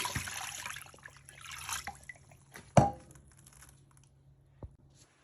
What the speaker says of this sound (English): Add water to rinse it.